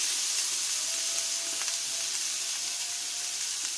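Onion frying in about a teaspoon of oil in a pan, with a little butter, for a restaurant-style Chinese chicken steak sizzler; a steady, moderate hiss and sizzle runs evenly throughout with no talking.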